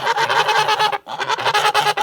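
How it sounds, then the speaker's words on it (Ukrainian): Kholmogory geese honk loudly and close by in a rapid series of harsh, nasal calls, broken by one brief pause midway before the honking resumes. "Оце гусачок"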